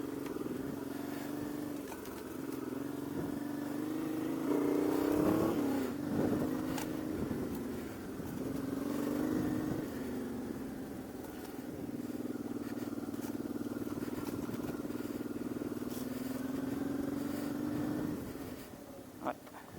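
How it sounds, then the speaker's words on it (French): A 1994 Honda Transalp 600 motorcycle engine drones steadily while being ridden, with the pitch rising and falling through several revs and a little wind or road noise mixed in. "Elle est géniale cette moto"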